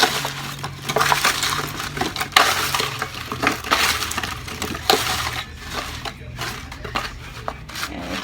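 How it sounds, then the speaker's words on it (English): Big lumps of sugar being broken up in a pan while making apple strudel: steady scraping, crunching and gritty clinks of a utensil against the pan, close and continuous, with a low hum underneath. "If you have any big sugar pieces like mine, just break it up"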